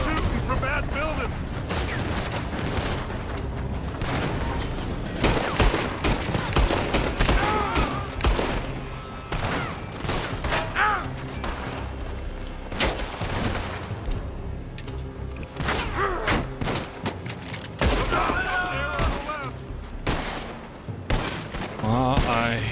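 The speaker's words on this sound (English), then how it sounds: "They're shooting from that building." Rapid gunfire from a Red Dead Redemption 2 shootout crackles continuously in dense bursts and volleys, loud and layered throughout, with a voice talking over parts of it.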